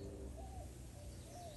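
Soft cooing of doves drifts through a backyard garden, faint and somewhat distant, with a couple of low rising calls over quiet outdoor ambience.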